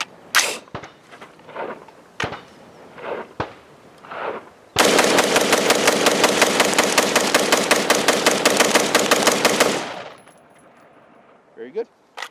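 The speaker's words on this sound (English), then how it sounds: "So let's do the mag dump and make sure everything is functioning the way it should." Rapid full-auto-style burst from a 5.56 rifle, a sustained mag dump of closely spaced loud shots lasting about five seconds outdoors near Four Peaks, Arizona, preceded by a few scattered single shots and followed by quiet.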